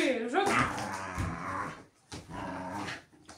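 A dog whimpers and growls in playful excitement outdoors in a grandmother's yard, with whiny rising tones and throaty rumbles in short bursts, mixed with people talking nearby.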